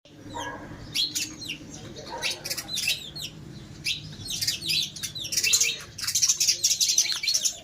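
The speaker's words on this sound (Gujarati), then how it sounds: "કેટલો મસ્ત અવાજ આવે છે ચકલીનો" Sparrows chirp busily in quick, overlapping bursts, the twittering growing denser toward the end, with no talking.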